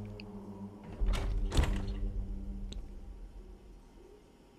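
A heavy door in Batman: Arkham Asylum thunks shut with a couple of quick loud impacts, followed by a fading rumble and a faint click, alone without voices.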